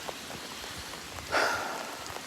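Heavy lake effect rain in Oswego falling as a steady hiss of drops on surfaces, with one brief louder splash or gust partway through.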